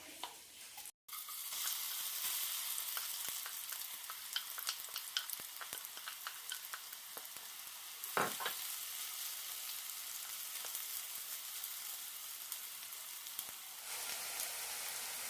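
Steady, loud sizzling of batter frying in a hot pan, a continuous crackle with occasional sharper pops and stirring scrapes.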